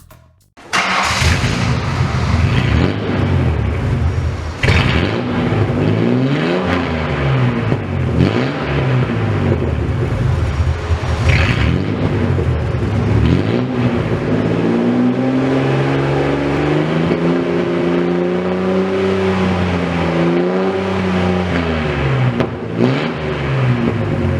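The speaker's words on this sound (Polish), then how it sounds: "Bazowa 3-litrówka co prawda nie imponuje mocą, ale za to nadrabia brzmieniem." A Ford Taurus with the base 3-litre engine is started and revved repeatedly, its loud, close exhaust note rising and falling in waves over a steady idle, with higher sustained revs toward the end.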